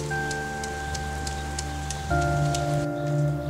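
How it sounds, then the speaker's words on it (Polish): Steady rain falls with a continuous patter of drops under sustained musical drones, with a moderate and even level throughout. "Niedługo potem zaczęło padać."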